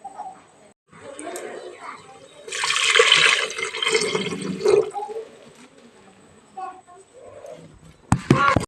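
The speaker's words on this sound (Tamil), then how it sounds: "4 கிளாஸ் தண்ணி ஊற்றிக்கோங்க, சரிங்களா?" Water is poured over rice in a pressure cooker while making tomato rice in a home kitchen. The pour gives a rushing, splashy stream in the middle, with a voice speaking intermittently around it.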